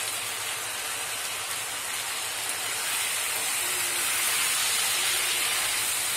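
Shrimp and okra frying in a covered pan, a steady bright hiss of sizzling oil that holds evenly and grows slightly louder toward the end, heard alone without voices.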